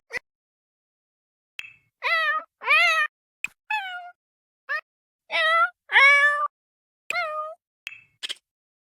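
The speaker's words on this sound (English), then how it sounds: "I'll just let you hear the voices for the cats right now." Series of cat meows from The Sims 4 pet voice options: about nine separate mews of varying pitch and length, each clear and close with silence between, playing one after another with no talking.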